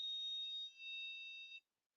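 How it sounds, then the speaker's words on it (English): A steady high-pitched electronic buzzer on a LoRaWAN device sounds a continuous warning tone for about a second and a half, with a brief dip partway through, then stops cleanly. "It's a 2-second warning on the buzzer."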